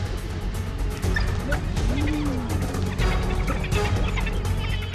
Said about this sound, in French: La meute de chiens sauvages est de retour.